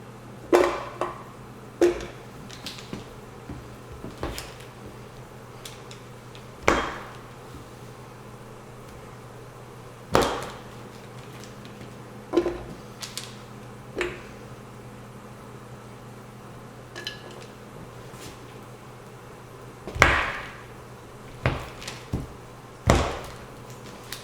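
An ice cream scoop cuts and scrapes through hard coconut beeswax, producing repeated short scraping knocks every few seconds over a steady low background hum.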